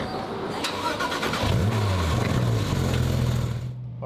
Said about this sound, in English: this is launch control in the Porsche